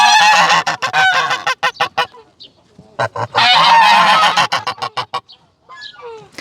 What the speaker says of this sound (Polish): Idę zajrzeć do gęsi.